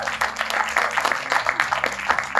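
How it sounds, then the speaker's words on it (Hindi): An audience applauds actor Raghubir Yadav at a film trailer launch event, a steady wash of many hands clapping, moderately loud and continuous, with a voice faintly mixed in. "तो जोरदार तालियां हो जाए रघुवीर यादव जी के लिए"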